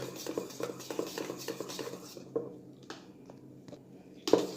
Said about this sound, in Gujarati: આ રીતે સરસ મિક્સ કરી લઈશું ક્રીમમાં.